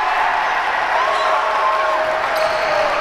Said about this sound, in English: And the crowd likes that one.